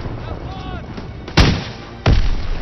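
Two loud explosions detonate in the WW2 shooter game Call of Duty WW2, each a sharp broadband blast with a rumbling tail, the second about half a second after the first, over steady battle ambience.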